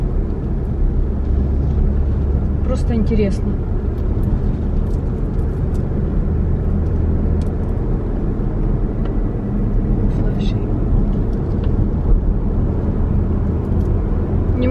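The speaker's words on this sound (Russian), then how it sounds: "Посмотрим, какой трафик." Steady road traffic on a four-lane road in King of Prussia, Pennsylvania: a loud, continuous rumble of cars passing close by, with a person speaking briefly over it.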